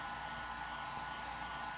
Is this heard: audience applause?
no